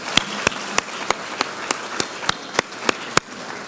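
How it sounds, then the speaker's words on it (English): Scattered, sparse clapping from a small conference audience after a legal panel, about a dozen distinct claps spaced at an even, slow rhythm, close and fairly clear over a quiet room. "Please join me in a round of applause."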